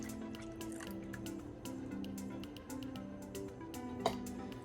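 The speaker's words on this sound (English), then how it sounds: "Once this is nicely incorporated together like this, I am going to add the milk" Milk poured into eggless chocolate cake batter, a steady close-up trickle and drip of liquid running for several seconds, with one brief louder splash near the end.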